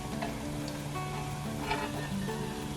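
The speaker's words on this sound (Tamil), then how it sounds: "இது வந்து மீடியம் ஹீட்டில் வச்சு தான் பொரிச்சு நான் ஒரு 7-8 மினிட்ஸாக வந்து பொரிஞ்சுட்டுருக்கு" Point Pedro vadai deep-frying in oil on medium heat, a steady close-up bubbling sizzle with small crackles and pops throughout, no voices.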